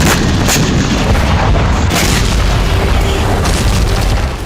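Russian artillery fires in war footage from the Russia-Ukraine war: loud, continuous heavy booms and blasts overlap into a dense, rumbling barrage, with no talk.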